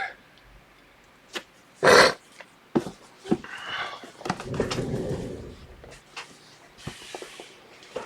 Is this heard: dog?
yes